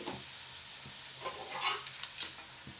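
Turmeric being stirred into food frying in a pan, a soft steady sizzle with scattered scraping and clinks of a spoon against the pan, fairly quiet and close with no talking.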